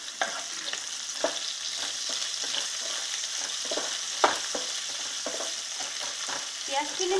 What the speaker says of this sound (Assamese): এতিয়া মই ইয়াত কাটি থোৱা পিয়াজখিনি দি দিছো